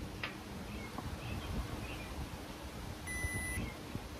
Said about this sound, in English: as I'm covering that, you hear that loud beep. That loud beep is saying it's nighttime, and that is the sound that would scare away predators.